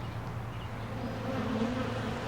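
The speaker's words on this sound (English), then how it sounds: "A lot of bees." A continuous low hum of many honeybees buzzing around a hive nearby, steady and fairly quiet with no talking.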